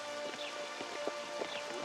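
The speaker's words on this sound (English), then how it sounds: "It's raining." Rain falls in The Witcher 2, a steady soft patter with scattered droplet taps on surfaces over a hissing wash, moderately quiet and unbroken by talk.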